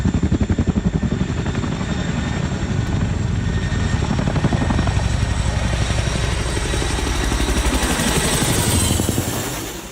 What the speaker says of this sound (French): Des hélicoptères déposent du matériel et des soldats sur l'eau.